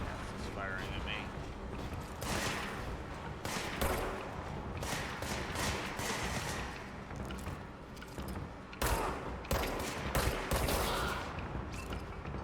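Gunfire crackles through combat in the video game Control, a dense and loud stream of shots that keeps going with only brief dips across the whole stretch.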